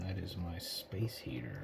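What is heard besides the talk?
No everyday noise stands out behind the speech.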